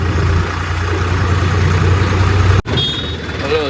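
A tractor engine idles close by with a steady low rumble, cut by a brief dropout near the end before the idle resumes.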